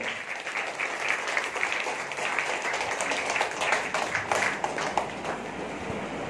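Applause for the father at a church worship service: a congregation claps steadily and densely for about six seconds, a loud continuous patter with no voices standing out.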